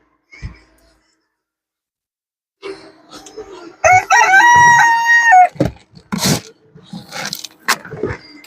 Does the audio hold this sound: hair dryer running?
no